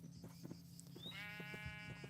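Sheep bleating in the video game Minecraft, a clear drawn-out bleat rising over a steady background hum and soft footsteps-like clicks, about a second long near the end.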